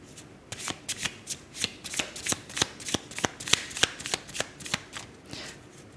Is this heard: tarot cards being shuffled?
yes